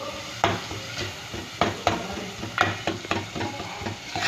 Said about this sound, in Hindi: मिक्स कर लीजिए इसे अच्छे से ताकि हमारा मसाला जो है वो अच्छे से भुन जाए और ऑयल ऊपर आ जाए